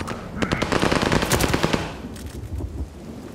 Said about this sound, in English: Hard point's under fire.